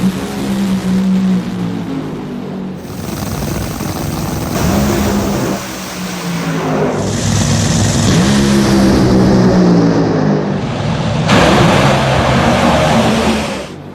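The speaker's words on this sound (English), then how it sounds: "Millican, Pruitt, final 2 Top Fuel cars here at Gateway." Top Fuel drag cars at Gateway roar at full power in a sustained, very loud engine blast, swelling and falling in waves as they race past.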